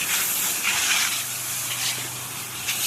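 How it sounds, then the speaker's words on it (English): Pressure washer spray hitting a stained wood deck while cleaning solution is applied, a loud, steady close hiss with slight surges in intensity throughout. "just applying the SH to the stained wood, letting it sit, and do a heavy rinse with the XJET"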